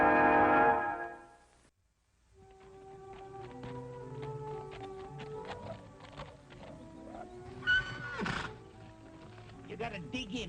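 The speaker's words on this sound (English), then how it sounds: "a great wild horse and the only person on earth who can ride him" Fury, a great wild horse, gives a loud, shrill whinny that tails off and then returns in a second long neighing call, set against dramatic orchestral music.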